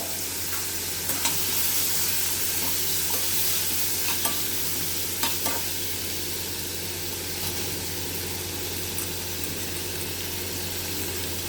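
A steady, moderately quiet sizzle rises from a pan where onions are being sautéed with turmeric powder, with light intermittent clicks of a spatula stirring, under a low constant kitchen hum and no speech.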